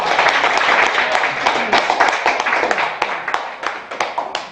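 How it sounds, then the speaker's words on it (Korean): An audience at a lecture-hall talk applauds together, a dense burst of clapping that thins toward the end into scattered individual claps. "박수 한번 칩시다. 박수!"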